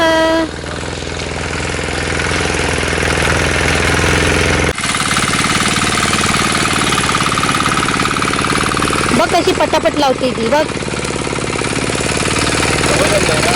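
A loud farm machine engine runs steadily throughout with a rattling, chugging drone, while people talk over it.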